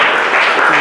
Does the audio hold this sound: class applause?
yes